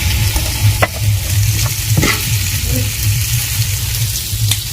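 Spiced gravy fries in oil for Indian-style khichri while a spoon scrapes and stirs through it, giving loud, close sizzling with periodic clinks and scraping strokes over a low steady rumble.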